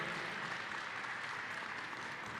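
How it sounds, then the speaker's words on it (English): Applause from the crowd at a beef sale auction, a steady even wash of clapping heard from a distance and fairly faint, with no talk over it. "Big round of applause there."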